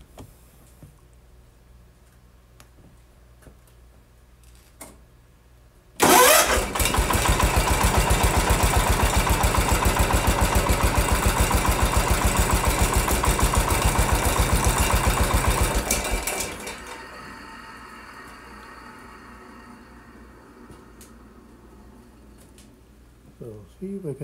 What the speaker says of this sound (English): Now I'm going to start the tractor again.